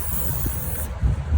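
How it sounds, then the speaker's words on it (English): A short, loud blast of brake cleaner sprayed onto an aircraft fuel filter during a 100-hour service, a steady hiss that cuts off abruptly near the end. "We're gonna hit it with the brake cleaner once, just to make sure that it's clean"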